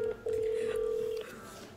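A steady electronic telephone tone sounds at moderate level during a phone call, a brief blip followed by one sustained ring lasting about a second, with faint room noise around it.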